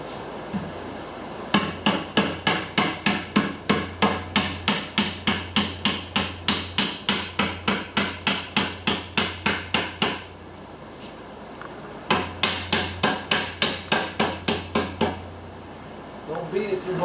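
A bent aluminum rain gutter is beaten with quick, evenly spaced hammer blows: a long run of sharp metallic strikes, a brief pause, then a shorter second run, close and fairly loud.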